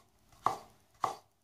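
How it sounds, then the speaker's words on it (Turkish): A knife chops a thin potato into matchstick pieces, two crisp separate cuts on a board, close and fairly loud with no one talking. "Aynı kibrit patates haline getireceğiz. Şu şekilde ondan sonra doğrayacağız."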